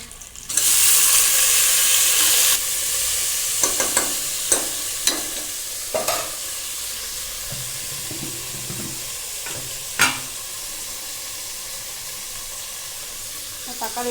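Tomatoes added to softened onions in a hot pan, a loud hiss at first that settles into steady frying, with a series of sharp spatula taps and scrapes as the mixture is stirred.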